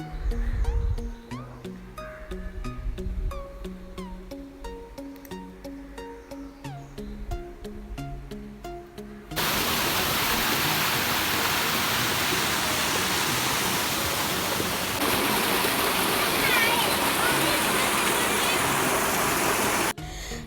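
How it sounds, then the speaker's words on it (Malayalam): After a stretch of other tonal sounds, a small waterfall stream takes over. Water rushes and flows in a broad, steady roar close by. "നന്നായിട്ട് വെള്ളം അങ്ങനെ ഒഴുകി പോകുന്ന സ്ഥലമാട്ടോ ഇതൊക്കെ"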